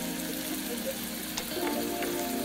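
Urad dal, mustard seeds, cumin and Kashmiri red chillies sizzle and crackle in hot oil for a raw mango chutney, a steady close frying hiss with scattered small pops, no voices.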